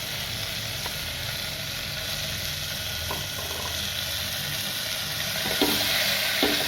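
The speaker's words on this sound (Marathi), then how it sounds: "आता कांदा चांगला परतू देते" Chopped onion sautéing in a home kitchen pan for a soaked-chickpea usal breakfast, giving a steady soft sizzle throughout with a few brief clinks of utensils near the end.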